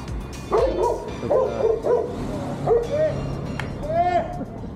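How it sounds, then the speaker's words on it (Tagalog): A big dog barks repeatedly in deep, irregular woofs, fairly close, with a few higher yelps mixed in, outdoors in the Greek mountains. "Napakita po na aso. Ayun oh. Sobra laki oh."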